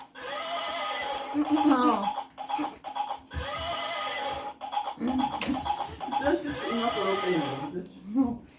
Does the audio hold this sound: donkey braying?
yes